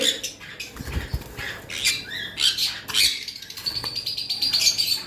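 Six tame blue conure parrots squawk in harsh, repeated bursts with chirps and bouts of wing flapping, fairly close and fairly loud, with no talk.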